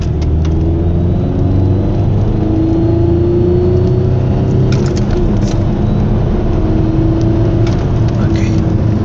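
Volkswagen Passat 3C with a BKP diesel engine pulling hard in third gear from about 2000 rpm, a steady loud engine drone with rising tone heard from inside the car, a voice talking over it.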